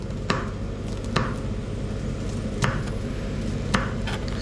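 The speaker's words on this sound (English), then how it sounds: "let's chop it up" A knife chops garlic on a board with four sharp, separate strikes, the last three spaced about a second apart. Steady kitchen background noise runs underneath, and no one speaks.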